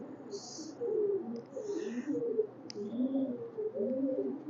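Red-necked pigeons at a breeding farm coo in soft, repeated low bursts, fairly close, while faint high calls and clicks come in briefly above them.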